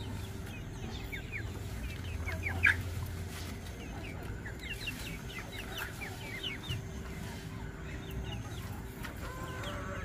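Chickens clucking in a rural Vietnamese farmyard near a vegetable patch, several birds giving short repeated clucks close by, steady and moderate over a low background hum, with no talk.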